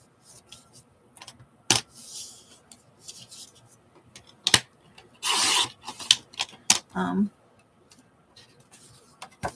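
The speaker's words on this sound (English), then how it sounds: "Let's just trim a little bit off that because it almost fits." Gelli-printed paper is trimmed with scissors, giving a few crisp snips and longer rasping cuts spread irregularly through an otherwise quiet space, close to the listener, with light handling rustles between them.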